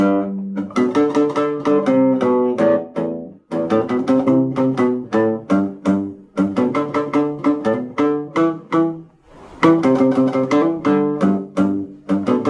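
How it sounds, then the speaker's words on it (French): Reggae-style bass riff played at normal speed on bass guitar, a repeating plucked phrase looping continuously for about twelve seconds with steady rhythm, clear and upfront with no talking. "Donc je vais te jouer le riff, c'est le riff de basse à la vitesse normale"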